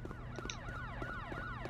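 A wailing siren cycles up and down repeatedly, steady and fairly close, with low rumbling underneath, in the PS2 video game Headhunter.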